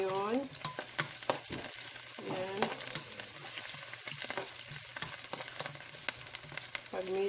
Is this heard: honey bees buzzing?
no